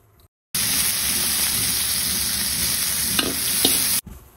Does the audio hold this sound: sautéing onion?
yes